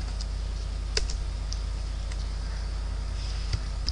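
Sparse clicks of a computer keyboard being typed on, a few light keystrokes scattered over a steady low background hum.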